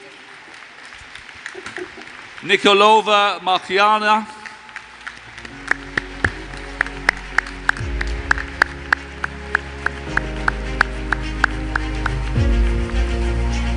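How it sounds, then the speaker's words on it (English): Audience applause fills a conference hall during a panel introduction at WCIT 2019, a broad wash of clapping, followed by an announcer's voice naming a panelist and then rhythmic music. "Round of applause, please."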